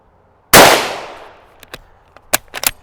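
One loud, sharp report from an 8mm Mauser rifle fitted with a 25-round magazine, with a long decaying echo afterward and a few quick metallic clinks and clacks that follow.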